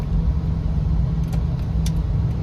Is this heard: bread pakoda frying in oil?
no